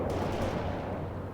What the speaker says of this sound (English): That vehicle's firing at us.